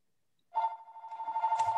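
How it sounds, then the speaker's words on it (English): A telephone starts ringing abruptly and keeps up a steady warbling electronic tone, close and clear, during an information session, with no talk over it. "sorry about the phone"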